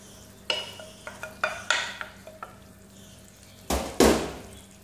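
Marinated chicken in yogurt goes into a pan over low flame, with a series of scraping, clattering stirs and spoon knocks, then a couple of louder splashy scrapes near the end, close and without talk.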